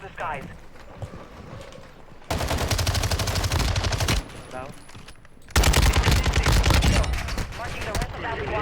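Gunfire in Warzone 2 cracks out in two loud sustained bursts, close and dense like automatic fire, separated by quieter stretches of game ambience.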